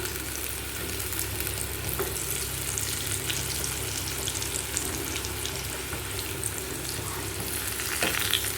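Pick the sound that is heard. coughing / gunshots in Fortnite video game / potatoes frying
potatoes frying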